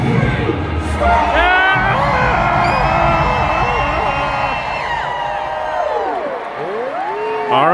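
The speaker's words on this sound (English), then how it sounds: "Let me hear you scream." A large crowd at the Disney Legends ceremony, a D23 event, screams, whoops and cheers loudly for several seconds, with shrill rising yells and some applause filling the room.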